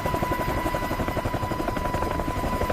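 A very large heavy-lift helicopter flies close by, its rotor thumping in a fast, steady rhythm under a loud mechanical drone.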